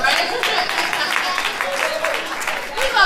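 Audience applause at an International Women's Day address, a continuous crackle of clapping mixed with crowd voices and chatter throughout.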